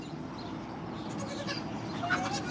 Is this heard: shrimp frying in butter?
no